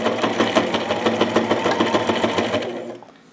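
Sewing machine stitching a nametape onto a patrol cap, a fast rhythmic needle chatter, loud and close, that slows and stops at the end.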